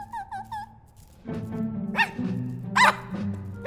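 Dogs in the Minecraft: Story Mode video game give a short burst of three or four high yipping barks, then voices speak over a background of game sounds.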